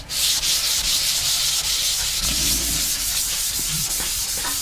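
Steady, close-up sanding as tarnish and rust are rubbed off a part from a 1979 AMF Harley-Davidson Sportster, a continuous loud abrasive hiss with no talking.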